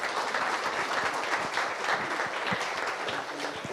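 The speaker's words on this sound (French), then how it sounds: "On peut les applaudir" Outdoor audience clapping for a shepherd's flock, brisk, dense applause from a modest crowd, fairly close and steady for several seconds, with a few sharper individual claps mixed in.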